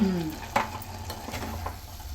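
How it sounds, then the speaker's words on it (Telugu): Scraping stir of a spoon through thick telagapindi and dried prawn curry in a pan, with a soft sizzle underneath and a few brief clinks. "ఒకసారి కలిపేసి మూత పెట్టేద్దామా"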